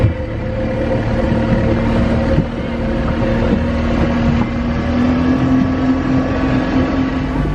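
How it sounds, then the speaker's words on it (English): An outboard motorboat fitted with a hydrofoil wing roars steadily as it picks up speed, with a rising engine whine, heavy wind buffeting and water rush close to the microphone throughout. "as the boat's taking off at a certain speed, the bow of the boat's actually going to be really high"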